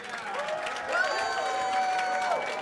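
A wrestling event crowd cheers and applauds at a steady, moderately loud level, with harmonic whoops and voices rising above the broad wash of noise and a swell near the one-second mark.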